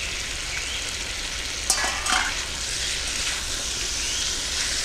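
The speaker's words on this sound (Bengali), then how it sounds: "নেড়ে নিচ্ছি। এরপর ভেজে রাখা চিংড়ি মাছগুলো দিয়ে দিচ্ছি।" Shrimp and ridge gourd fry in a pan with a steady broadband sizzle, broken by a couple of brief scraping stirs near the middle; close and fairly loud, no voices.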